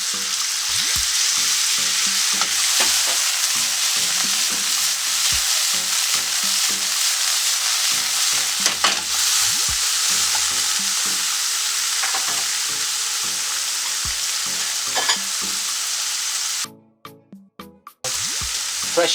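Chicken, egg noodles and vegetables sizzle in a stir-fry pan, a loud steady crackling hiss with scraping stirs, cutting out briefly near the end before resuming.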